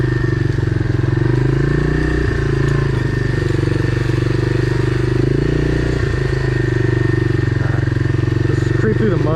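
Honda Big Red 250es three-wheeler on non-factory tires creeping through mud, its engine a loud, steady close-up drone that holds throughout with only slight shifts in load.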